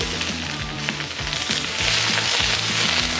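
Chicken wings sizzling loudly in a hot pan over high heat, a continuous bright frying hiss with low rattling bursts from the pan and no voices.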